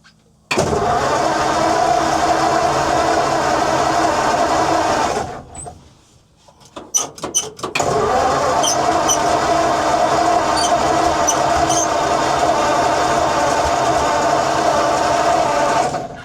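An abandoned old truck engine runs with a loud, steady mechanical drone, then dies away. A short burst of rapid cranking pulses follows, and the engine catches and roars steadily again.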